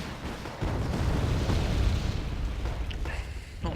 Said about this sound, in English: fighting Falcons coming in, bombing these forests up here